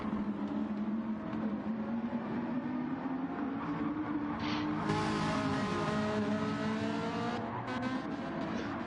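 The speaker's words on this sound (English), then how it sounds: "that Ferrari looks and sounds nice" Ferrari GT1 race car in a racing video game on the Catalunya circuit, engine droning steadily with rising and falling pitch through gear changes, loud and continuous with no talk.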